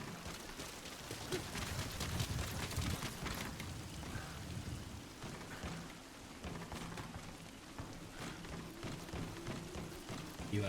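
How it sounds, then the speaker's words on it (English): Steady rainfall in the Metal Gear Solid V video game, a dense continuous hiss at an even level with some low rumbling underneath, heard without speech. "Sound of rainfall should help to mask your footsteps."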